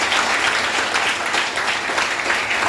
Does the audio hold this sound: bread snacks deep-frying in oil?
no